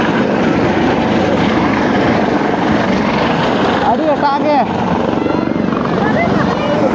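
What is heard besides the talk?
helicopter flying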